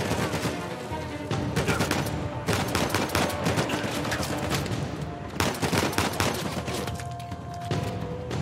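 Dense, rapid sniper and rifle gunfire from a firefight in the Uncharted 4 video game, loud and continuous, with a brief lull before the shooting resumes.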